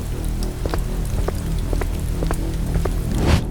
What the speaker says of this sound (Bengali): আর হালকা বৃষ্টি পড়ছিল